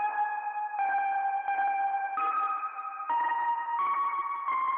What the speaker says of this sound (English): Just a super simple synth sound, just a bunch of reverb, and then I'm distorting the reverb.